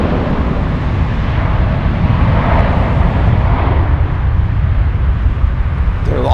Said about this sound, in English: now we've got Turkish Airlines Flight 3RF. That is on its way to Istanbul on an A321-200.